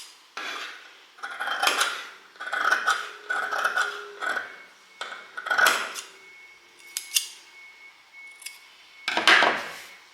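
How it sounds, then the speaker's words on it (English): Scissors cut away fabric seam allowance while a tie-front top is being sewn. About eight crisp, close snips come in separate bursts with short pauses between them, and no one speaks. "we're going to cut off some of that seam allowance"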